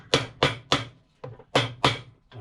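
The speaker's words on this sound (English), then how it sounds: "Sorry, I got a hammer." Hammer blows strike a shoe sole during a loafer resoling, with six or seven sharp, loud, close knocks in an uneven rhythm and a brief pause midway.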